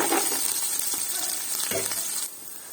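Tomato, onion, chili, curry leaves and peanuts fry over low heat for spicy ugani, a soft, even sizzle with faint clinks of stirring, dropping slightly quieter near the end.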